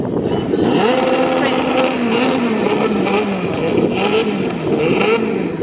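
Drag racing cars at Breakers Speedway in Grand Cayman roar continuously, with a steady loud engine drone and rising revs, while people talk nearby over the noise.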